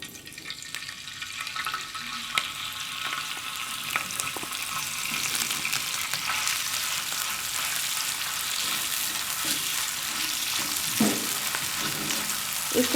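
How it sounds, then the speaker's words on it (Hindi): Minced chicken fries in a little oil on a tawa, giving a continuous close sizzle that grows slightly denser, broken by occasional spatula taps; nobody talks. "अब इसमें जो हमने चिकन का कीमा करके रखा हुआ है, इसमें ऑयल में शामिल करें।"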